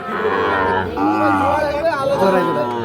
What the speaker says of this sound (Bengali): এই পাশে কিন্তু রয়েছে বকনা গরুগুলো